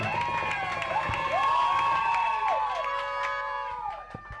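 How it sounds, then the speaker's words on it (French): A crowd at a church Christmas celebration cheers and shouts as a child approaches, bright excited voices rising and falling over a few seconds amid general hubbub. "Sharon, quand il s'approche, on acclame aussi."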